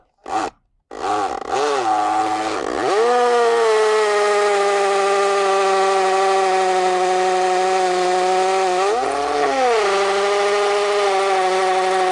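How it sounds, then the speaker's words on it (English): After a few short starts, a hammer drill runs loud and steady nearby drilling into a concrete slab, with a high whine, dipping briefly in pitch before continuing; no talking. "Switch this over onto hammer, and then we can start to drill into the slab"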